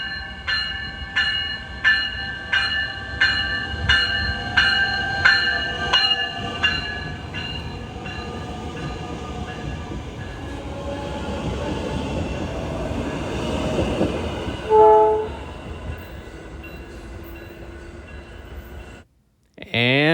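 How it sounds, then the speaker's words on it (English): Two South Shore train sets with double-deck cars pull out of a station, rhythmic wheel clacks over rail joints giving way to a steady rolling rumble, a short horn blast near the end and voices nearby. "the 2 South Shore sets with the 2 double-deck units roared into life"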